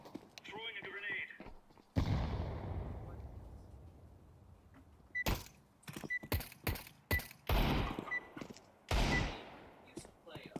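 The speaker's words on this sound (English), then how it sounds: "Throwing a grenade." A grenade thrown and bursting in a video game: a sudden heavy blast with a long decaying rumble, followed by bursts of rapid gunfire and further explosions, with faint game voices early on.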